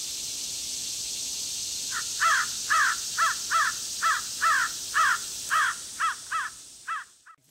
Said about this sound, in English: I like starting out with excited crows